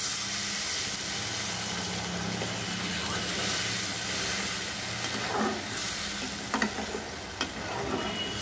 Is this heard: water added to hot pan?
yes